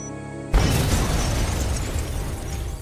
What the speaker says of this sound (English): not long after, the bomb detonates